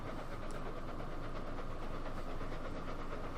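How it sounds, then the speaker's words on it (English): A passenger train in the video game Transport Fever 2 rumbles past in a steady, continuous wash of rail noise, with faint rhythmic clatter through it. "it's the opposite number passenger train"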